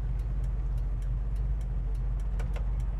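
Turn signal indicator ticking on the driver's side of a 1966 Ford Mustang Fastback, a steady series of light, evenly spaced clicks over a constant low engine rumble.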